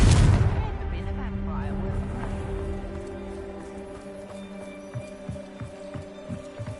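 A Confringo fire spell blasts in the Hogwarts Legacy video game, a loud burst up front that rolls into a fading rumble with scattered smaller thuds and a low ambient drone after.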